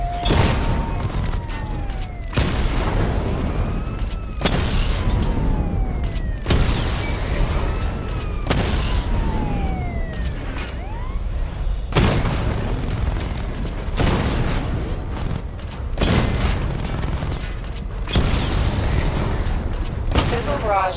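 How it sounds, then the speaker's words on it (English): A Batmobile missile barrage in Batman: Arkham Knight: repeated loud volleys of booming blasts with whooshing, pitch-sliding streaks, coming in roughly two-second waves for about twenty seconds. "Charge the missile barrage to level 2 to destroy up to 4 targets at once."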